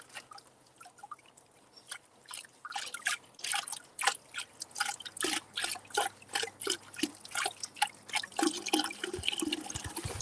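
Water sloshing, dripping and trickling in a bucket of moss and crack material outdoors, a rhythmic run of wet splashes and drips that grows busier and louder as it goes.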